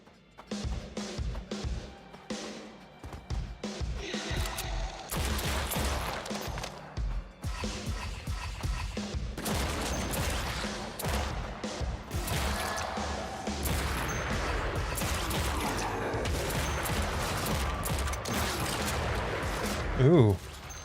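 Gunfire and crashing action from the video game Project Warlock 2, with shots and impacts scattered throughout at moderate loudness while a voice talks over much of it.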